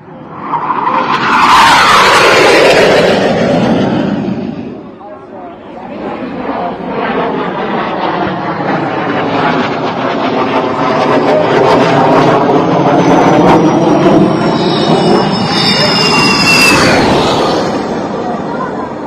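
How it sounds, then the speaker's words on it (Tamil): An Indian Air Force Sukhoi Su-30 MKI fighter jet lands on a national highway, a loud continuous jet roar that swells, dips briefly, then builds again with a rising engine whine. "விமானப்படையின் சுகோய் Su-30 MK போர் விமானம் தரையிறக்கப்பட்டது."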